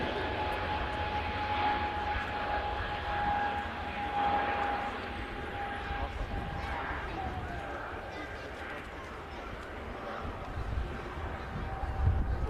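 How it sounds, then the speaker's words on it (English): A Pegasus airliner rotates and climbs away from runway 23L at Manchester Airport, its jet engines giving a steady, broad roar that holds throughout with little rise or fall. "Pegasus rotates from 23 left on dual runway operations here at Manchester."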